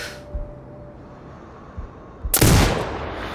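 A single loud sniper rifle shot in the shooter game Sniper Ghost Warrior Contracts 2 cracks after a quiet stretch with a few faint thumps, then rolls off in a short echoing tail.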